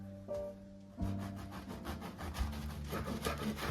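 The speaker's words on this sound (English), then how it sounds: "Now we're going to cut our French bread into pieces that are about 3/4 to an inch thick." A knife saws back and forth through a French bread loaf, cutting diagonal slices about an inch thick, giving repeated close rasping strokes over a low hum.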